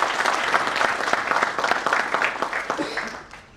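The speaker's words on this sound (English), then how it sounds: "Let's clap for him." An audience at a fitness industry career talk bursts into steady, dense applause, many hands clapping together at close range, holding strong for over three seconds before thinning out and fading at the end.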